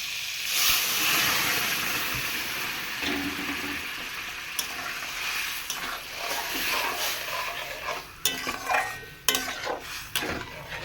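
Moong dal with ridge gourd bubbling and hissing in a pot, a steady soft sizzle with scattered clinks and scrapes of a utensil against the pan, near and without talk.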